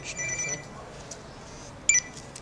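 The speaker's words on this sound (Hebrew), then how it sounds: "הופה, רגע, יש לי טלפון" A phone rings in two short electronic trilling bursts over a quiet room background, faint and somewhat distant, with no talking.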